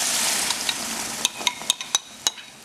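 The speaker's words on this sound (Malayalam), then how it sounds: "ഈ നെയ്യിൽ ഇതൊന്ന് മിക്സ് ചെയ്ത് എടുക്കുക" Blended papaya is stirred into ghee in a pan for halwa. A soft sizzling wash is broken by a run of about six crisp, close utensil scrapes and clicks against the pan, spaced unevenly.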